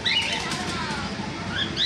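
Full-grown lutino cockatiels flapping their wings in quick rustling flurries, close and continuous, with a few short chirps mixed in.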